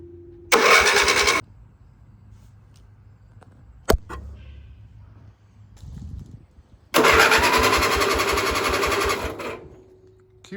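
A lawn mower engine cranks on the key in two bursts: a short one, then after a pause a longer one of several seconds, loud and close, with a click in between.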